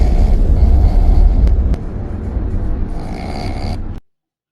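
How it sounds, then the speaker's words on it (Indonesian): A man asleep in a car snores loudly and close by, a rough rumbling breath that fades into a quieter, breathy stretch before stopping abruptly. "Dan ternyata suara itu adalah suara ngorok, kawan-kawan."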